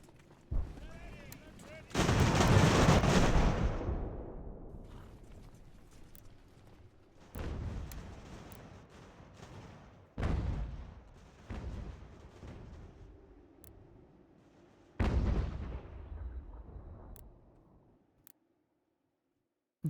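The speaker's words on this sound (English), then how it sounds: "Their arties now firing." Enemy artillery fires in Ultimate General: American Revolution during the invasion of New York. Loud booming cannon volleys roll out in several heavy bursts with long rumbling tails and quieter battle noise between them.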